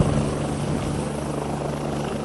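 An Airbus Lakota helicopter landing in Columbus, Mississippi, heard as a loud, steady rotor and engine roar with a low droning hum that stays constant throughout, with no voices.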